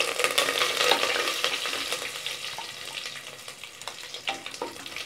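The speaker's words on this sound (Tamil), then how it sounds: "இப்போ எல்லாத்தையும் இது கூட சேர்த்துக்கலாம். சேர்த்துட்டு லைட்டாக வதக்கிவிட்டுக்கலாம்." Curry leaves and whole spices sauté in hot oil for a spicy country chicken (nattu kozhi) kuzhambu, giving a steady close sizzle with scraping stirs throughout and no one speaking.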